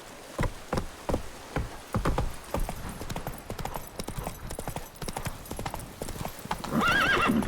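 Roach the horse is ridden in The Witcher 3, her hooves clip-clopping in an uneven rhythm up close, ending in a loud whinny, with insects buzzing faintly in the background.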